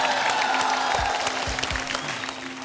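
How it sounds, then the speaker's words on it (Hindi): Studio audience applause on the Hindi TV game show Dus Ka Dum, a brief burst of clapping that fades out over under three seconds, with a low steady hum and a few deep thuds underneath. "तालियां।"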